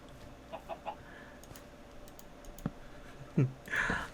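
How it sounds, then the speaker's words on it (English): A chicken clucks in the Minecraft video game, a few short soft clucks among faint clicking like keyboard typing, all quiet with no talk. "Where's all the mobs at? Chicken?"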